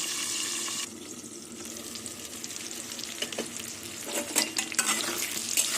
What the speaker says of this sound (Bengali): পটলটা লাল লাল করে ভেজে নেব